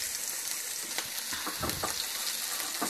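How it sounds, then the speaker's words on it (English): Green onions, garlic and ginger hit hot oil for beef fried rice, a close, dense sizzle and crackle with a few stirring clatters, steady throughout and no speech. "now I'm gonna cook our green onions and our garlic and ginger"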